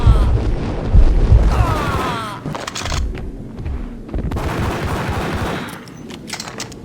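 Gunfire and explosive booms from the PC video game Max Payne, loud bursts of shots with heavy impacts over a busy mix of game sound effects and music.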